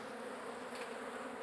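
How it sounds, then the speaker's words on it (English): Dense, steady buzzing of a large honey bee colony at an opened hive, built up from a six-frame nucleus, filling the whole moment at close range with no talk over it. "is an incredible amount of bees that's come on from a 6-frame nucleus 5 weeks ago"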